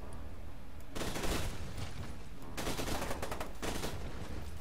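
Gunfire in the video game F.E.A.R. 2 comes in two loud close bursts of rapid shots separated by a quieter gap, over low background game noise.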